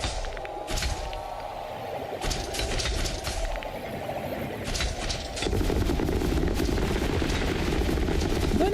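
A Gatling gun firing in the space game Elite Dangerous, a steady rapid mechanical rattle layered over a droning ship engine hum, continuous and fairly loud throughout with no voices.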